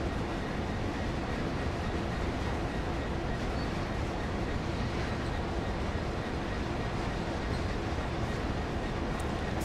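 Class 66 EWS diesel locomotive pulling a train in Train Sim World on the Great Western line: a continuous loud rumble of engine and rolling wheels, steady throughout with no talking.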